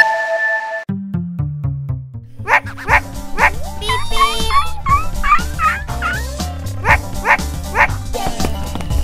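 A dog barks repeatedly in a stop motion animation, loud yips and bow-wows in a steady rhythm over a tonal musical backing, with fowl-like gobbling calls mixed in.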